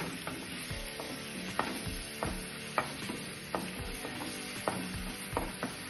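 Finely chopped onion sautés in hot oil for masala Maggi, making a close, steady sizzle punctuated by regular sharp clicks of a spatula stirring against the pan.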